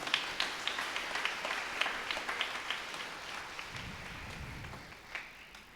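A church congregation applauds the fathers and Father Benny at a St. Mary's feast flag-hoisting at Novena Basilica, with fairly distant, modest clapping whose individual claps stand out rhythmically before gradually tapering off.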